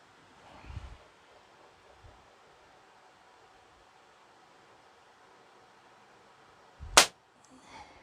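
A single sharp shot from a Crosman 1322 pump air pistol charged with ten pumps, a short loud crack near the end of an otherwise quiet stretch with light background noise.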